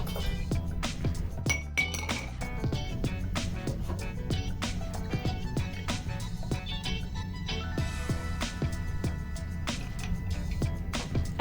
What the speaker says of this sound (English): We're gonna strain the cocktail into a cooled Nicanor glass.